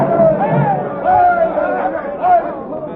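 A murmuring crowd pours over a town square in a 1948 radio drama, a dense babble of many voices that swells and ebbs, with one voice rising above the mass.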